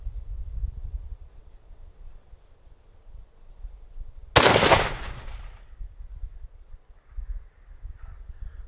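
A CheyTac M200 Intervention rifle fires a single loud, sharp shot outdoors at a range, then a short fading rumble. Before and after the shot there is only quiet background noise.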